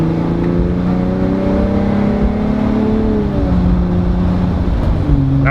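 A Jeep Wrangler JL fitted with an iDRIVE throttle controller accelerates up to about 50 mph, its engine note droning loud and steady with rising harmonics, then a shift or dip near the end as speed builds.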